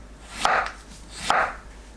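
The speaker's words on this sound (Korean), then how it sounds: "감을 채 썰어줍니다." A knife cuts a peeled, seeded persimmon into thin strips on a board, two crisp chopping strokes a little under a second apart, close and clear against a quiet room.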